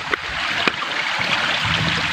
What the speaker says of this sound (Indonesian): di sini guys udah terdengar suara air yang udah mau keluar